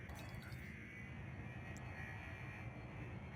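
Spaceship engines in the game Elite Dangerous run with power diverted to them, giving a steady low roaring hum with a thin high whine that stays even and fairly quiet throughout.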